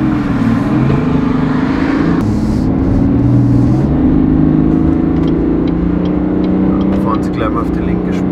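A 2020 Chevrolet Silverado Duramax diesel pickup cruising on the Autobahn, a loud, steady engine drone and road roar heard from inside the cab, its pitch rising and shifting as it accelerates, with someone talking over it throughout.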